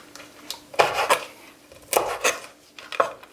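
A knife cuts through dried peppers in a few separate bursts of crunchy slicing on a board, with short pauses between strokes.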